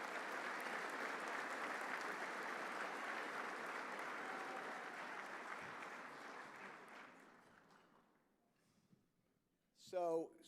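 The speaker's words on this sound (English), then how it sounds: "So let's give them a big round of applause" Audience at a touchdown club luncheon event breaks into sustained, fairly loud applause that fades out over several seconds, followed by a brief burst of someone speaking at the end.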